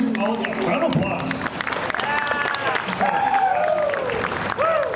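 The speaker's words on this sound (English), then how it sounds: "Round of applause." An audience at a YouTuber panel Q&A for Kentucky Kingdom applauds in a busy hall, with dense clapping mixed with crowd noise and a voice speaking over it.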